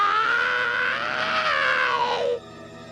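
A sacred lizard creature from a cartoon gives a single loud, strained scream that wavers in pitch for about two seconds, then cuts off sharply and leaves a faint background.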